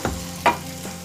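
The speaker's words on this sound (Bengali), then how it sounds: "একটা মাঝারি সাইজের পেঁয়াজ আর হাফ ক্যাপসিকাম কেটে রেখেছি, সেইটা দিয়ে দিচ্ছি। এটাকে ভালো করে আমি ভেজে নেব।" A medium onion and half a capsicum frying in a pan, a brief close sizzle marked by two or three scraping stirs, no voices.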